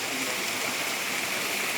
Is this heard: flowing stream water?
yes